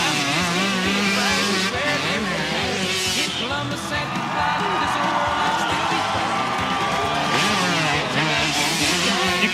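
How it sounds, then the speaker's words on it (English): A freestyle motocross motorcycle at the 2000 Gravity Games winds out, its engine whining and shifting pitch loudly over crowd noise and a commentator's voice throughout. "Really hear his bike. If you listen, you can hear it winding out."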